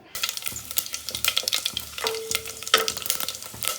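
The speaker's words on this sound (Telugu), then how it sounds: "ఈ గరం మసాలా ఒక్క నిమిషం అలా వేడి నూనెలో చిటాపాట అన్న తర్వాత" Whole garam masala crackles in hot oil inside a cooker for chicken pulao, a busy run of sharp pops and spits over a close sizzle with a few metallic scrapes, no talking.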